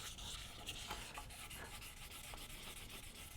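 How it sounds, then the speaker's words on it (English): Fingertips wet-sanding the clear coat of a six-string multi-scale guitar body with 1500-grit paper, a steady close scratchy rubbing that runs without pause and without speech. "since I'm using my fingers to sand as a sanding block, I can feel the texture."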